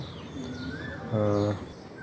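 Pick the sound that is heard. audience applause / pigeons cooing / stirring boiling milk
pigeons cooing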